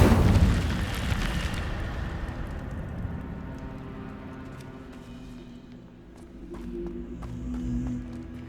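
A fire spell cast in the video game Hogwarts Legacy, a loud burst of roaring flame that starts big and settles into a sustained crackling rumble across several seconds.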